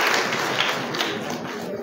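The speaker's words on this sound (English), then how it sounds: "please clap for Alex, Chairman on Health" An audience clapping for a senator who chairs a health committee at a youth empowerment event, a brisk, dense burst of many hands clapping at close range, steady throughout.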